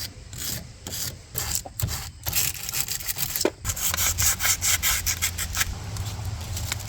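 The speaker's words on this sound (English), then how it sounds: "Drill on a wire brush." A drill with a wire brush attachment scrubs a generator part, giving a close, gritty, whirring rasp that pulses at first and then settles into a steady grind, alone with no voices.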